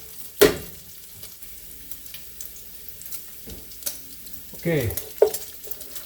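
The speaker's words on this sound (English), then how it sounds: "bacon's starting to get crisp but not completely done" Bacon sizzling and crisping in a pan, a steady low crackle broken by several loud scraping stirs, with a brief spoken word partway through.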